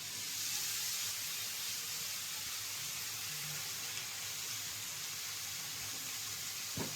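Shredded cabbage seasoned with salt and turmeric goes into a hot pan and fries with a soft, steady sizzling hiss at moderate volume, with a small clink near the end.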